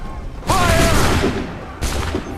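Musket volley fired on command in Assassin's Creed 3, a loud sudden broadband blast that rumbles on for over a second, followed by a second burst near the end, with a faint shout in between.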